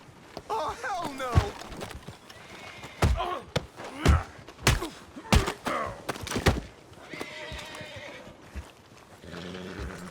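Horses whinny and neigh in a Red Dead Redemption 2 role-play game scene, mixed with clip-clop hoofbeats and a few heavy thuds, while voices talk over the action.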